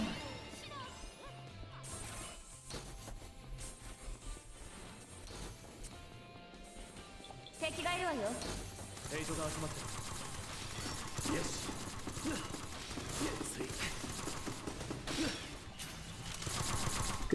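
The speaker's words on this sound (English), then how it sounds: "Good grenade. Or explosion from flying, if that's what it was." A grenade blast in the shooter game Sword Art Online: Fatal Bullet bursts in partway through, followed by dense crashing impacts and rapid gunfire that keep the battle noise loud and busy.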